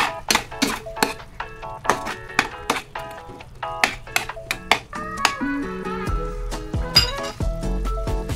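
Ground pork being stirred in a pan with a utensil: quick, repeated metallic clinks and taps against the pan, close and fairly loud, with no talking.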